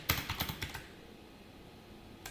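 Keys clatter in a quick burst of close computer-keyboard typing while JavaScript code is entered, then a long quiet pause and one last faint keystroke.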